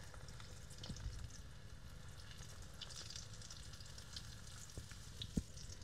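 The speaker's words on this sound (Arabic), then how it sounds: "بنجيب كمشي بهذا الحجم وبننزل بالزيت" Spoonfuls of eggplant omelette batter fry in hot oil with a soft, continuous sizzle, fairly faint, with a few small clicks from the spoon and no talking.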